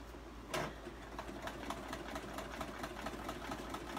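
A sewing machine fitted with a walking foot runs slowly without its foot pedal, stitching a seam through fabric with a steady, close mechanical whirr and rapid rhythmic clatter over a faint hum, no voices.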